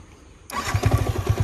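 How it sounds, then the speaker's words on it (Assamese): A motorcycle engine, one of a Yamaha R15 V3, TVS Apache RTR 160 or NS125, fires up abruptly after near silence and settles into a loud, close, pulsing idle with a steady rhythmic throb. "RPM এটা লাষ্ট আপোনালোকক এতিয়া মজাকৈ শুনাই দিম বাইকখনত"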